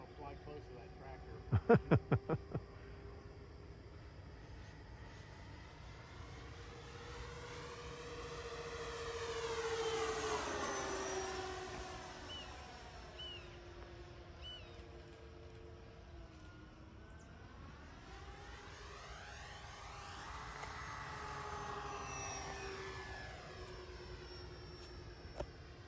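Freewing P-38 twin-engine RC model airplane flying over a field, its motor whine swelling as it passes near around ten and twenty seconds and fading between, with a few sharp clicks at the start and someone talking.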